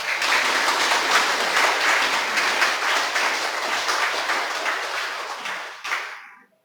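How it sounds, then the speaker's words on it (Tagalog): A church congregation at a Sunday service claps steadily and loudly, a dense wash of applause that holds for several seconds before abruptly cutting off. "Pwede po bang dagdagan nyo ng lakas yung palakpak?"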